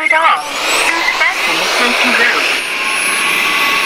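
A HUTT C6 window cleaning robot runs with a loud, steady suction whine and airy roar close by, holding constant throughout with faint chirping tones above it.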